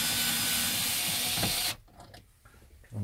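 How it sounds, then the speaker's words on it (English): Ratcheting clicks from a tool loosening the screws that hold a car stereo, steady for a second and a half, then trailing into quiet mechanical ticks. "Just need to take out the 4 screws that hold the stereo in."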